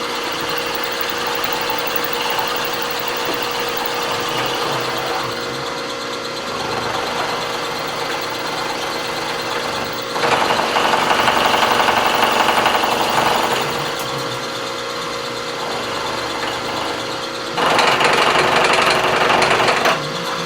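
A Bridgeport milling machine with a power draw bar runs continuously, a loud, steady mechanical drone and rattle that swells into harsher, louder cutting bursts twice, with no talking.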